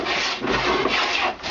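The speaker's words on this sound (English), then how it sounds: "you start at this end of the board and you start planing" A hand beading plane with an arched cutter shaves a bead along a wooden table apron board, making a close, continuous rasping swish of steel cutting wood in one steady stroke.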